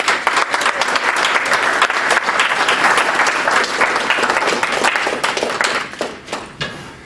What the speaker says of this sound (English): let's just give these folks a round of applause